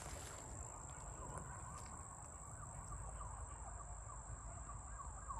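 Faint sirens wail far off beneath a steady background hum, with no talking.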